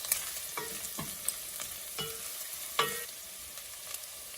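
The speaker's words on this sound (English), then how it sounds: "we're gonna brown the shrimp just to get the flavor out" Dried shrimp browning in a pan on low heat, a quiet sizzle beneath a series of distinct spatula scrapes and taps at irregular intervals, close and soft, with no speech.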